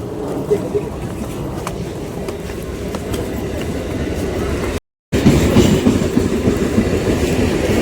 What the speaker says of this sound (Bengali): এই ট্রেনটা ঢুকছে ডায়মন্ড যাবে